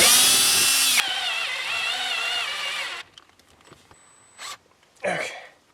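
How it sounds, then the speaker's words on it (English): An electric drill with a 1/8 inch bit boring a hole during an LS engine swap: a loud, steady whine for about three seconds, then stopping, followed by a few short clicks and brief handling noises. "so I'm using an 1/8 inch drill bit here to make a hole."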